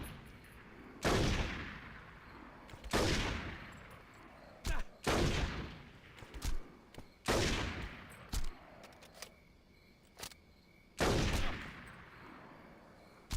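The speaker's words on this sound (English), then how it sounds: "Those guys over there, meanwhile, they're already shooting at me." Enemies fire in the Saints Row game with loud bursts of gunshots and volleys in irregular clusters, some long and sustained, some short and sharp, with quieter gaps between them.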